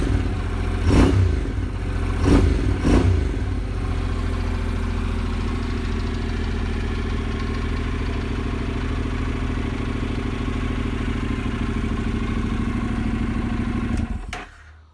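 A motorcycle engine fires up on electronic start while out of gear, blips sharply twice to the rev limiter, then settles into a steady, loud, close idle before cutting off at the end.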